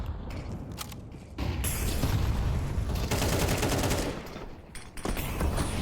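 Rapid bursts of gunfire in the Entry Point video game, a dense fusillade of overlapping shots that swells loud, stops briefly, then starts again with close, sharp repeating cracks.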